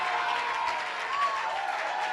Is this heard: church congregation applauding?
yes